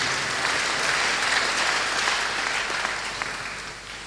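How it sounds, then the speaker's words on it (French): A church congregation claps in sustained, dense applause that stays loud and fills the room, then tapers slightly toward the end, with no clear voices above it. "nous acclamons la parole du Seigneur Jésus-Christ"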